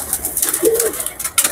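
Pet pigeons in a home loft give a soft, low cooing phrase near the middle, with faint bird sounds and light background noise around it.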